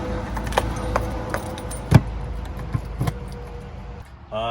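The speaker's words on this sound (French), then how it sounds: "Vous remettez bien la cassette." A toilet cassette is pushed back into its slot in a Challenger 268 Start Edition camper van, giving a few close plastic clicks and rattles with one solid thud midway and a final latch-like clunk.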